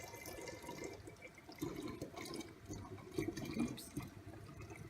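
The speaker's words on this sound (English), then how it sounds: "pour my kombucha that I took from my kombucha jar" Kombucha pours into a glass jar, a soft, faint gurgling and splashing of liquid that wavers in strength over several seconds.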